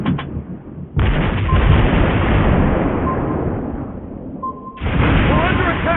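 Torpedo and gunfire explosions in the naval battle game World of Warships Blitz, a dense roaring rumble of blasts and booms that cuts off abruptly twice, loud and close.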